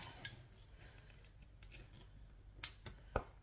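A few quick snips of scissors trimming thread after sewing in a zipper, close by, sharp and crisp, with soft rustling between the cuts.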